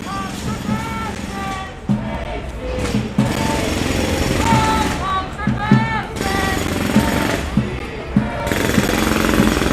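A jackhammer pounds in rapid bursts at a Seattle road construction site, loud and close with short gaps between runs, while people talk over it and traffic noise mixes in.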